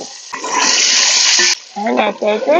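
Six eggs seasoned with turmeric hit hot oil in a pan, making a loud, steady sizzling hiss that cuts off sharply, followed by a person talking over the quieter cooking.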